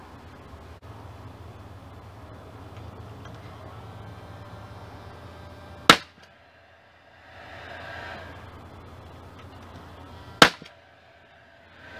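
A nail gun fires two sharp, loud cracks several seconds apart while fastening a birdhouse built from a single fence picket, with quiet handling noise between the shots.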